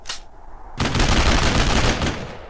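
Sustained burst of gunfire in the World War II shooter Brothers in Arms: Road to Hill 30, a short crack followed by a dense, loud run of rapid shots that fills the whole moment.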